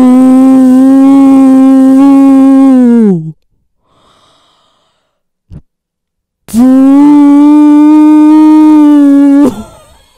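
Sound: voice imitating a hair dryer

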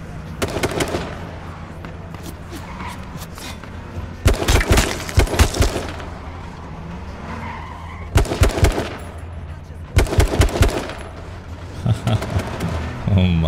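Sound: gunfire in H1Z1 King of the Kill video game

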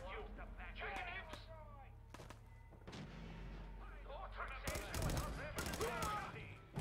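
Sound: pistol gunfire in video game Fallout 4

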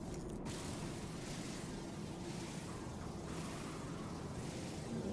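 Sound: storm wind in the video game No Man's Sky

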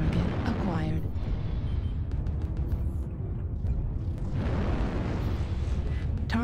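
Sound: airstrike explosions in MechWarrior Online video game

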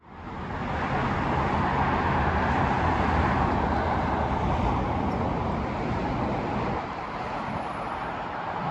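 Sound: cars passing on a street in Kuwait

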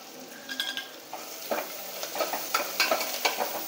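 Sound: curry leaves sautéing with onion and crushed garlic

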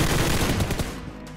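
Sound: gunfire from video game gun

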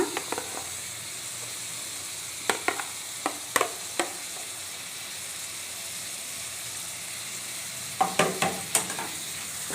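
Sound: stirring tomatoes into fried onions in a pan

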